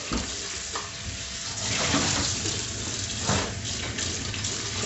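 Running tap water rinses out a homebrew fermentation bucket in a sink, a loud continuous splashing rush that swells and surges unevenly as the bucket is moved under the stream, with no voices.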